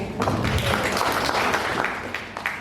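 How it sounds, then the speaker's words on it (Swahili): An audience applauds Sabina Chege at a gathering for a singer, a dense, steady wash of many hands clapping at close range that carries on evenly for a few seconds before tapering slightly. "Asante sana Mheshimiwa Sabina, tumpigie makofi."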